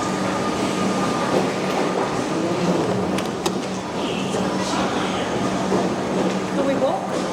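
Train at a Melbourne railway platform on the Werribee line, a steady rumbling roar of rolling stock with faint rail clatter and a brief sharp clank, continuous and fairly loud.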